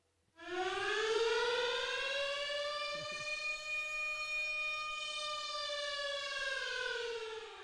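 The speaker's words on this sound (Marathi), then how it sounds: "आणि तो सायरन देखील वाजेल." A loud wailing siren marking the start of an over at a cricket match starts abruptly and holds a steady, sustained tone with rich harmonics for several seconds, with no talking.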